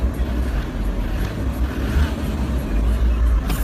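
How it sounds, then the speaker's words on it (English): A car engine revs hard close by, a loud, rough low rumble that surges and falls repeatedly with no pauses over several seconds. "Is there any reason why you're revving the car like that?"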